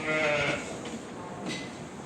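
A Kangal lamb lets out a loud, close bleat, followed by a fainter second bleat a moment later.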